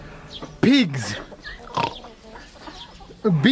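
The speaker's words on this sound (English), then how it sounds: "Pigs." Pigs grunt and squeal in a few loud bursts close by, with farm clucking and people talking in between.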